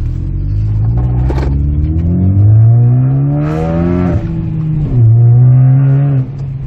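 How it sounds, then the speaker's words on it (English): A Ford Focus ST engine revs loudly up and down through several pulls, the turbocharged exhaust note rising in pitch, then dropping and climbing again, close by. "That's a really nice sound of the car, so it is a nice exhaust system."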